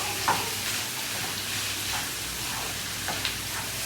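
Chicken sizzles steadily frying in a hot pan, a continuous close crackling hiss with occasional stirring scrapes.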